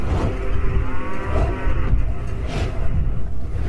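A water buffalo lets out deep, loud, drawn-out moos and bellows, several overlapping calls close by with no talking.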